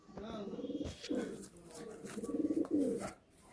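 Young Andhra, Kalanka and Chennai Kalduma pigeons at a pigeon sale in Kolkata give rhythmic, throaty coos in two close bursts of quick pulses, with a soft voice in the background.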